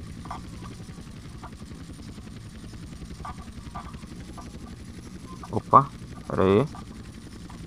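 A helicopter in the PS2 game GTA San Andreas drones steadily with a low rotor hum, while someone speaks briefly near the end over the engine.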